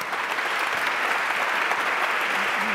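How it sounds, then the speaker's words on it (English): A round of applause from the audience for an education panel of speakers, steady, dense clapping that holds at an even level throughout with no voices over it. "a big round of applause for our panel"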